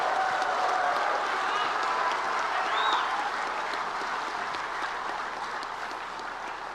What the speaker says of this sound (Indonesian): Maka sekali lagi tolong Anda sampaikan tepuk tangan gegap gempita untuk Ketua